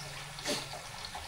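Vinegar poured into a pan while cooking sweet and sour mayamaya fish, a brief soft liquid splash and trickle standing out over steady background hiss.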